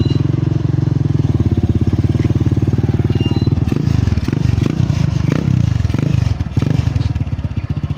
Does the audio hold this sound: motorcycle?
yes